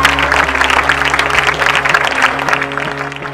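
Audience applause for laureates at a ceremony, a dense steady clatter of clapping from a crowd, loud and sustained over a low musical hum.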